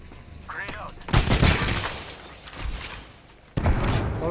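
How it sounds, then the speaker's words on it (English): Grenade blast in Apex Legends: a sharp, loud shattering explosion with a rumbling decay, followed by a second sudden impact near the end, with a voice speaking briefly beforehand. "Grenade out."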